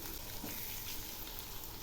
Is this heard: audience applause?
no